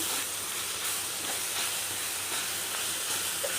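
Onions and ginger-garlic paste fry in a pan for a small fish curry, giving a continuous, even hiss that stays close and fairly loud throughout, with no talking.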